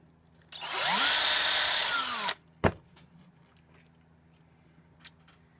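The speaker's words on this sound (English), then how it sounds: "so we're going to drill the rivets" A power drill drilling out rivets whines steadily for about two seconds, then stops, followed by a sharp clack and a few faint taps.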